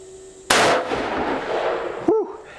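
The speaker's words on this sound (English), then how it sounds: "And one more, and this will be the 5th shot." A single booming shot from a Taurus Raging Hunter .460 S&W Magnum revolver, fired off a rest at a shooting table, loud and close, with a long ringing decay followed by a brief breathy exhale.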